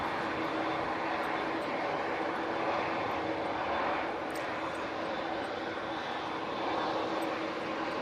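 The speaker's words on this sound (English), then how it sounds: "Ryanair, next out, 737-800." Ryanair Boeing 737-800 jet departing for Rabat, a sustained engine roar that stays steady and moderately distant for several seconds, heard alone without talk.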